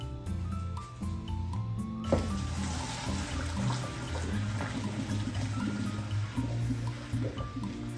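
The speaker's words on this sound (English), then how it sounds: "I'm gonna drain that in a colander." Hot water from boiled yuca pours into a colander, a steady splashing and gurgling stream that starts loudly and continues over a low steady hum throughout.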